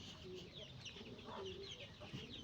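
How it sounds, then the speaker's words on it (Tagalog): Faint clucking from a group of chickens on a farm, soft overlapping calls scattered across a quiet outdoor backdrop with small chirps high above. "Ayan, ang dami nila"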